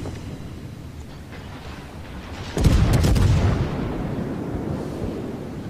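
Warship guns firing in World of Warships, a single heavy booming salvo partway through that rolls on as a long rumbling tail over steady background noise.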